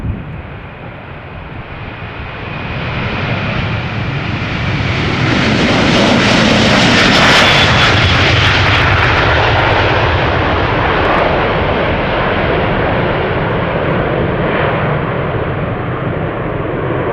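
An Airbus A330 or A340 jet taking off at Schiphol Airport, a loud, broad engine roar that swells over several seconds and holds steady as the aircraft climbs away, with no voices.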